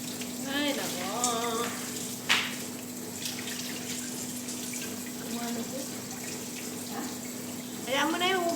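Tap water runs steadily into a sink during dishwashing, a constant close splashing hiss with occasional clinks of dishes while people talk over it.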